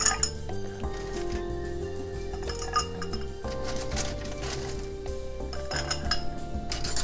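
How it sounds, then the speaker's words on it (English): A Glenlivet whisky cocktail stirred over big blocks of ice, with soft clinking and spoon chinks against glass beneath continuous background music. "Now, I'm going to stir this down over ice"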